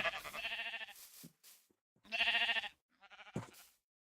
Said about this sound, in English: Every single sound is a sheep sound.